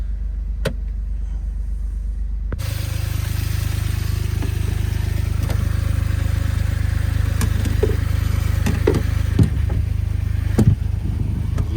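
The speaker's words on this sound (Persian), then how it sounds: "یهو صدای موتور خفه میشه" A Smart car's engine, just serviced with fresh oil and a new filter, starts and then runs at a steady low idle, a constant droning hum with a few faint clicks and knocks over it.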